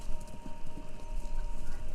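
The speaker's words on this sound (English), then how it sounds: "Sounds like horses. Horses running." Horse hooves clip-clopping at a run, heard as a faint, muffled radio broadcast in the game Kentucky Route Zero, a steady galloping patter under static hiss and a thin tonal hum, with no talking.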